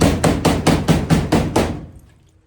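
A voice imitates a race car wheel hopping under rear braking, producing seven rapid, evenly spaced percussive bursts that fade out at the end, close and loud.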